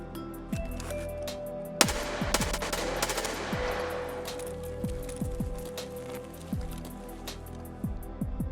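Gunfire from a fight outside in the video game Escape from Tarkov, with rapid shots and bursts spread across the clip, one sharp louder crack near the start and a steady rumble of background noise.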